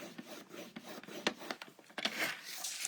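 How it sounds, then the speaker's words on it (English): A blade drawn along cardstock to score fold lines at half an inch, giving short, close scratchy rubbing strokes in a quick irregular series, faint and alone. "I'm going to score it on both ends at 1/2 inch"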